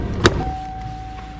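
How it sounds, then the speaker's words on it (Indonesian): A car door opens with a soft mechanical clunk, then the car's door alarm starts a steady, thin electronic tone that holds unbroken to the end, heard in the film Split. Nobody talks. "Namun alarm pintu mobil tiba-tiba berbunyi"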